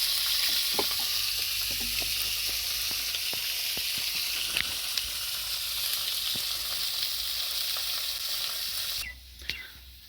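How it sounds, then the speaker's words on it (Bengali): Ivy gourd and papaya frying in a pan, a steady loud sizzle with small stirring clicks throughout, cutting off sharply near the end. "এখানে দেখতে পাচ্ছ কিন্দুরিতে আর পেঁপেতে মানে ভাজা হবে আর কি"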